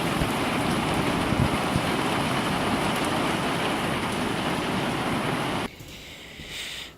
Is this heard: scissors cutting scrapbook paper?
no